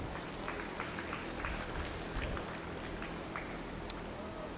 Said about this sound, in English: Let's give them one final round of applause as well.